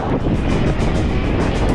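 Steady, loud wind rushes across the microphone with a constant roaring buffet and no letup.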